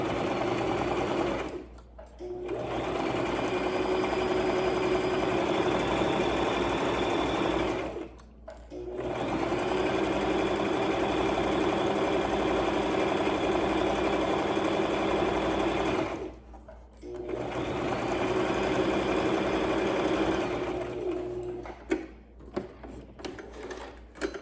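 A sewing machine stitching a double-turned hem on a log cabin pillow, a loud close mechanical whir running in long bursts, with three brief pauses between runs and some handling clicks near the end.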